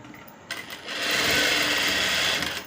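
Sewing machine stitching fabric for invisible piping, a short burst of steady whirring that starts abruptly and runs close and loud without pause.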